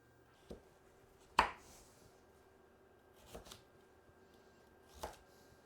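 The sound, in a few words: vegetables being prepped, likely chopped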